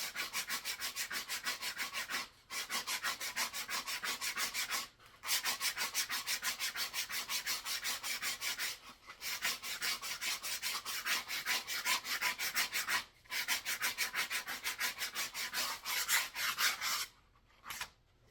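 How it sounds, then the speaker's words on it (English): A wooden flute from a pre-tuned kit has its mouth end sanded by hand, a close, steady rasping scrub in long continuous strokes broken by a few brief pauses, with no talking. "I'm going to sand the mouth end"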